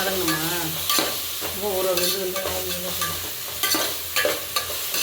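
Onions sautéing in a pan while prawn biryani is prepared, a continuous sizzle punctuated by several loud metal spoon scrapes as they are stirred, close up, with a voice briefly heard over the frying.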